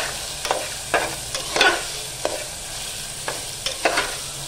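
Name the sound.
sautéing ginger garlic in oil for matar pulao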